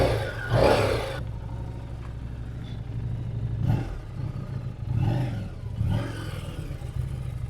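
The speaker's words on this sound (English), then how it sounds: "It sounds like a V-twin, like you'd hear like a sports bike V-twin." A cheap repossessed Harley-Davidson V-twin with a flat tyre idling nearby, a steady low chugging rumble with a few louder throttle blips cutting through at intervals.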